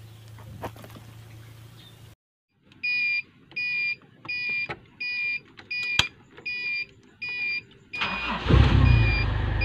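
A Toyota Kijang Kapsul is cranked by its starter while the start-stop wiring is tested. A steady run of evenly spaced electronic beeps comes first, then the engine turns over with a loud, low rumbling surge at the end.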